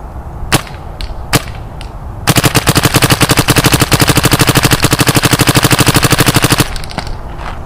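A DYE M2 paintball marker, fresh out of the box, fires two single shots and then a long rapid-fire string of loud, sharp pops in a tight steady rhythm lasting about four seconds, followed by quieter clicks.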